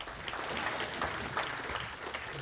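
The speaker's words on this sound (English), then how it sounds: "So let's give Parker a round of applause for academic All-State" An audience at a varsity football banquet gives a warm round of applause, a dense, steady patter of many hands clapping together at moderate volume with no talk over it.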